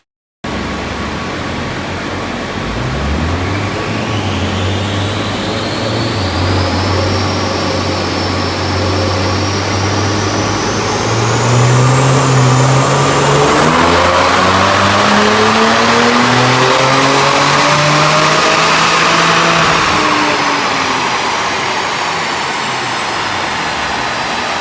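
A 2018 Kia Stinger fitted with a Keendesign performance chip runs up on a dynamometer, the engine climbing steadily through the gears with a loud, sustained rising roar and whine for about twenty seconds before easing off.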